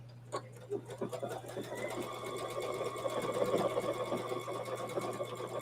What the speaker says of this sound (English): All right, so I'm just going to sew.